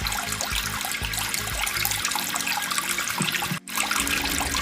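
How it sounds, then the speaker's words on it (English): Beef back ribs are rinsed under a running kitchen tap, giving a steady splashing flow of water with a brief break near the end, with no talking. "So I'm just going to wash these off and get them real clean,"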